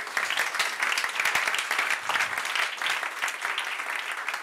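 An audience at a corporate evening event applauds a guest named Céline, with dense, steady clapping that carries at an even level throughout and has no speech over it.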